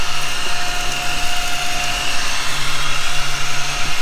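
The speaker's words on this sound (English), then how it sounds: "it's a little mini vacuum." A small beard trimmer motor with a built-in mini vacuum whirs steadily with a high, airy hiss, running continuously at close range with no voices.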